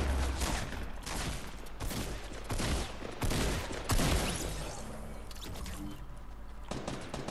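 Quick, loud shots fired in the video game Fortnite, clustered in bursts over a few seconds and then tapering off into quieter rumbling.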